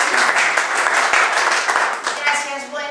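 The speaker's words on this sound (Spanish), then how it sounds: "le damos un fuerte aplauso para que se sienta a gusto" An audience applauds a speaker at an educational talk on complex thinking in formal education, with dense, steady clapping that fills the room throughout and fades slightly near the end.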